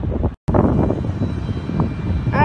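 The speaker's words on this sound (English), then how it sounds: "These are reverse thrusters." An airliner's engines roar loudly in reverse thrust after landing at John Glenn International Airport, a steady broadband rush that runs on without letup apart from one abrupt break.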